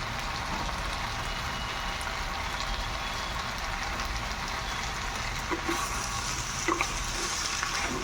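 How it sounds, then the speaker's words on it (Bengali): Salted vegetables are stirred and mixed in a frying pan, giving a faint, steady sizzle with soft scraping and occasional light clicks of the utensil against the pan. "ভালো করে মিশিয়ে নিচ্ছি"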